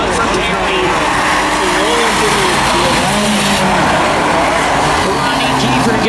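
Race cars at a claimers race roar down the back straight, loud continuous engine noise filling the track, with a commentator talking over it.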